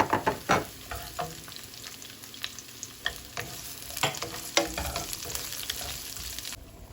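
Chopped onion sizzles and crackles in a hot pan with the garlic for sotanghon glass noodle soup, with a steady fry and irregular stirring clatters close by.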